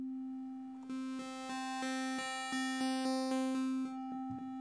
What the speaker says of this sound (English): we've got like a sine wave, triangle wave,